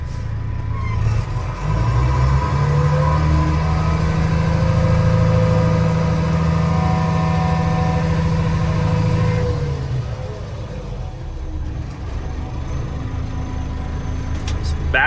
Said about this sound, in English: Truck moves good,